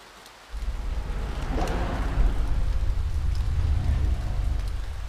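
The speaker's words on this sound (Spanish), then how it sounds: "Y empieza a llover, justamente." Rain starts falling in the video game Impostor Factory, a sudden steady downpour hiss with a low rumble that stays constant and fairly loud, with no one talking.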